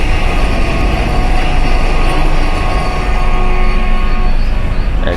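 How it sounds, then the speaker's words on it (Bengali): A Vande Bharat train passes alongside a departing train, a loud, continuous rolling roar with faint wheel squeal and rail hum throughout. "পাশ দিয়ে বন্দে ভারত"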